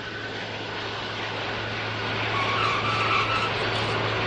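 Antonov An-225, a 600-tonne giant on 32 wheels, touching down with tires scraping rubber, a dense steady roar and hiss of jet engines and runway friction that grows slightly louder midway, with no talking.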